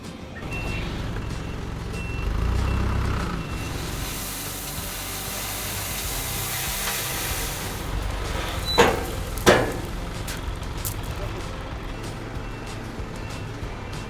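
A gravel delivery truck in Mongolia reverses outdoors with a steady engine rumble and hiss, and a couple of brief sharp beeps or air-brake bursts stand out near the end.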